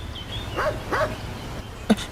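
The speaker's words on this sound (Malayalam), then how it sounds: "എന്താ സാറേ നായുടെ ശബ്ദം കേൾക്കുന്നുണ്ട്?" A dog barks a few times at a distance in a quiet outdoor setting, the sharp yelps rising above a low steady background hum.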